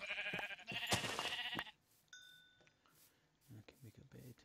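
Sheep in the Minecraft video game bleat twice in quick succession at the start, loud and close, then soft clinks and quieter game noises follow.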